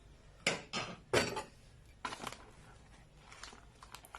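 A utensil scrapes and clanks against a pot while pizza sauce thickened with cornstarch is stirred, in a few irregular bursts of metallic scraping and knocking, close by and moderately loud, with no talk.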